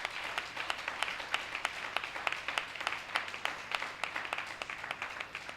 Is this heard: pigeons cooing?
no